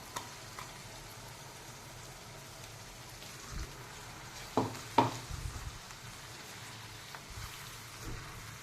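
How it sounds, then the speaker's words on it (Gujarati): Tomato and spice masala paste frying with onions in oil for a spinach curry, a steady soft crackling sizzle with a few louder spatters and stirring knocks partway through. "હવે આપણે આને બરાબર શેકાવા દેવાની"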